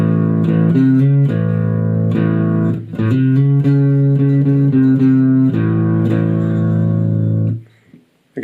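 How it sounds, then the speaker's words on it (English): A distorted electric guitar through a Vox practice amp plays a bluesy sequence of sustained chords and notes, loud and close, ending with a brief fade and pluck. "distortion builds up a little bit more as you go around"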